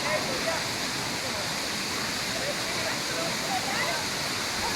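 Water rushes steadily nearby like a stream or small waterfall, a constant broadband hiss filling the whole clip.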